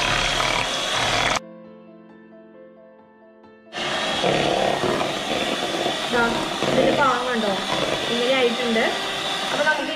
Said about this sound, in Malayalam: അപ്പോൾ ചെറിയതിൽ തുടങ്ങിയിട്ട് വലുതിലേക്ക്, അതായത് ഏറ്റവും ആദ്യം ഒന്നിലിടുക, അത് കഴിഞ്ഞിട്ട് അങ്ങനെ സ്പീഡിൽ ബീറ്റ് ചെയ്തെടുക്കുക.